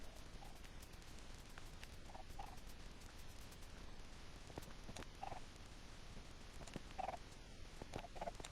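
Chickens on a Minecraft farm give short, faint clucks at scattered intervals, soft and distant over a low background hiss.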